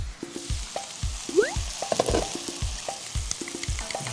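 A sauce for tteokgalbi bubbles and sizzles in a pan with a busy crackle, while repeated soft scraping strokes sound in an uneven rhythm, close by.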